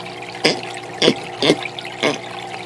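Aquarium filters in a turtle tank splash and gurgle close by, sending out four evenly spaced bursts of water about half a second apart.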